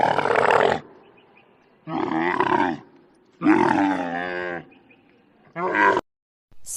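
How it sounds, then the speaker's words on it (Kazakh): A domestic camel gives four deep, rough grunting roars in separate bursts with short quiet gaps between them, close and loud with no talking. "Түйе."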